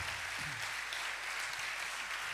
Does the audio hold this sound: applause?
yes